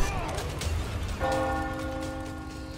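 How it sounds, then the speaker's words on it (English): A church bell rings out in the video game Resident Evil 4 Remake, its sustained, ringing tones blooming suddenly midway and hanging steadily over a noisy, rain-like background. "ring the bell, please!"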